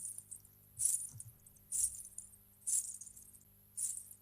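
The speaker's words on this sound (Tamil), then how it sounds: "இது என்ன திடீர்னு கொலுசு சத்தம்லாம் கேக்குது?" Anklet bells jingling in a house, four separate bright shimmering bursts spaced about a second apart, like footsteps, faint over a low background hum with no talking.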